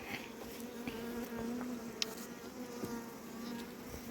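Honey bees buzzing around a hive high in the Carpathian mountains, a steady close hum with a few louder passes near the microphone and no talk.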